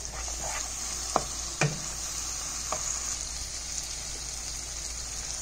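Masala stir-fried with a little water for spinach kofta curry, with a steady sizzle over a low hum and a few sharp spoon taps and scrapes.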